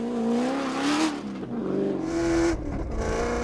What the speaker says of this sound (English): opened the door for Visser and Badenhorst, the Ford Ranger wasting no time in overtaking them.